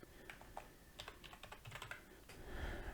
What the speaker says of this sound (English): Let me type